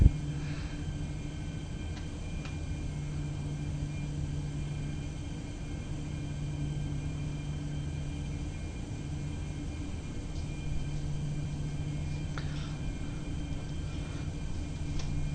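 Steady low engine hum of an airliner taxiing in Microsoft Flight Simulator 2024, a Delta jet at Salt Lake, with continuous droning tones and faint broadband rumble, no talking.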